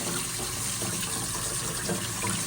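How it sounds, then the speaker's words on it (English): Water runs steadily over a K&N air filter being rinsed clean, a continuous broadband gush and splash close by with no talk. "just keep rinsing that until it gets nice and clear"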